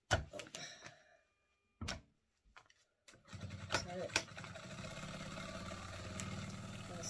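A sewing machine stitches straight across fabric for an oven mitt, with short clicking bursts early on, then a steady continuous hum of stitching near the end, separated by quiet gaps.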